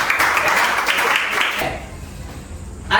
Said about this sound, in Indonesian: Mari aplaus untuk kalian semua.